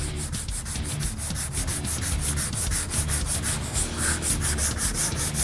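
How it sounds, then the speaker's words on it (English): Hand sanding of a dent repair on a body panel with 180 grit sandpaper, feather edging in a crosshatch pattern: steady, continuous rhythmic scratchy strokes, close up, with no talking. "we're going to switch back to the 180 grit and feather edge this until it's nice and smooth"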